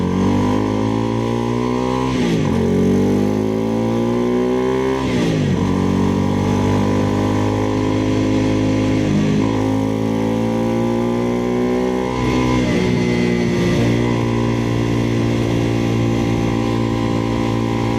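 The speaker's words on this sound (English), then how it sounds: "that is the type of bike that I ride. I have a Chinese bike. I have a Venom X22R" A Venom X22R Max Chinese motorcycle being ridden, its engine loud and steady up close, climbing in revs and dropping back at each gear change about every two and a half seconds.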